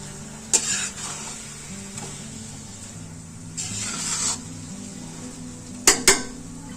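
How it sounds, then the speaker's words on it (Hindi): Fresh ajwain roasting in ghee in a pan, stirred with a utensil: a low steady sizzle under several bright scraping strokes and sharp clinks against the pan, close and fairly loud, with no talk. "दो 3 मिनट हो गए अजवाइन को भूनते हुए और घी जो इसमें छोड़ दिया अच्छी तरह"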